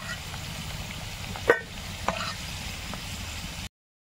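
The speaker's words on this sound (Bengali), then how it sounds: "ভাজার তেলে আমি ফোড়নে দিয়েছি তেজপাতা, শুকনো লঙ্কা আর গোটা জিরে" Whole spices (bay leaf, dried red chilli and cumin seeds) sizzle faintly in fish-frying oil for a pomfret curry, with a couple of sharp clinks from stirring against the pan.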